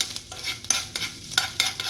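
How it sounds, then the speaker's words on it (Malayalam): Bitter gourd sautés in ghee for payasam, with close, repeated scraping stirs of a spoon in the pan over a light sizzle, in short bursts. "ഞാൻ പാവയ്ക്ക ചേർക്കുകയാണ്. പിന്നെ നെയ്യിൽ വഴറ്റിയെടുക്കുക"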